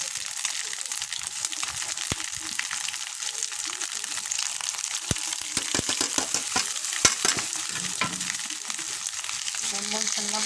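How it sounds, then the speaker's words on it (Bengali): Bay leaf and garam masala frying in oil in a pan while cooking a fig curry, a steady bright sizzle with scraping stirs and clinks, close and fairly quiet, with some talk over it. "এই মশলাটা দিয়ে আগে কষায় নেব যাতে গন্ধটা চলে যায়"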